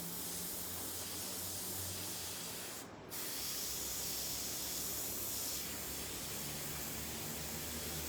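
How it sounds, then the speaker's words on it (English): An airbrush sprays paint freehand with a continuous close hiss that breaks off briefly once and then resumes steadily. "when I'm doing airbrush projects, it is all freehand, just like you see me doing right here"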